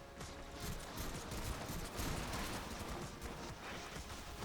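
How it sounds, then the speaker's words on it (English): A Staticor weapon in the game Warframe fires in rapid, continuous bursts, producing a dense, crackling barrage of shots with no pause across the whole stretch. "Because you can fire so fast, the travel time's not a huge consideration"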